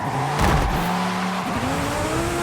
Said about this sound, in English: a mid-engine V10 powered Lamborghini rally car that just wants to hit dirt roads like crazy